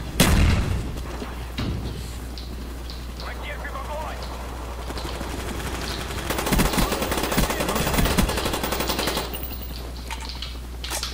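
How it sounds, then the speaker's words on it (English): Mortar shells strike during a Call of Duty: Black Ops match, loud booms landing amid rattling automatic gunfire, with a dense burst of impacts near the middle and more blasts toward the end. "Is this enemy mortar or is it friendly mortar?"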